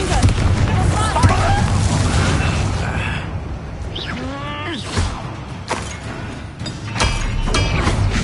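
A Confringo blasting spell goes off in Hogwarts Legacy, with booming explosive bursts and rumbling game effects mixed with character voices and a shouted incantation.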